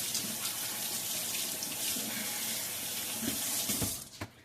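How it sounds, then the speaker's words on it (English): A tap runs steadily into a sink while hands are washed, a close continuous splashing rush that cuts off abruptly near the end with a few drips and clunks. "Let me wash my hands."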